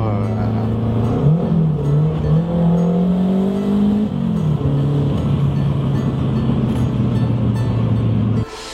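A Renault 5 Turbo 2 engine drones loudly and continuously from inside the car, its tone rising as revs climb, dropping at a shift, then holding steady at cruise, with a voice speaking over it.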